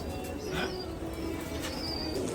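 Pigeons coo softly at a farm, a low murmuring call repeating under a busy, hissy background with faint chirps and a brief flutter, fairly distant and quiet.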